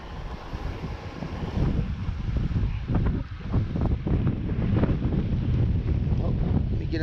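Strong outdoor wind buffets the microphone during a micro-fishing trip near water, producing a loud, continuous rumbling gusty roar with a few brief knocks and no talk.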